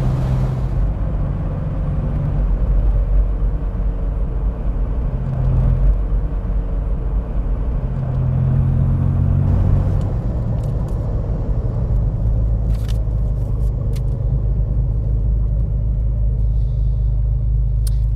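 A Ford Capri 2.8 Injection on a road trip, its engine producing a steady, loud low rumble with road and cabin noise throughout, with no one speaking.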